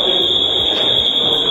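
A fire alarm goes off in a school building, a loud, steady high-pitched electronic tone holding without a break, with faint voices underneath.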